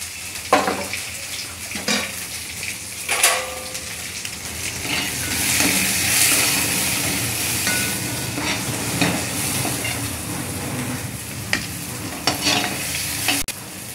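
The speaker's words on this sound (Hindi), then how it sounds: "तेल हमारा गरम हो गया है, अब इसमें हम प्याज कटी हुई और हरी मिर्ची डालेंगे।" Chopped onion and green chillies hit hot oil in a pan and crackle and sizzle continuously at close range, with intermittent scraping and stirring knocks throughout.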